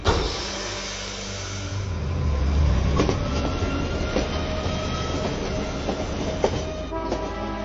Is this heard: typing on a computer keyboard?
no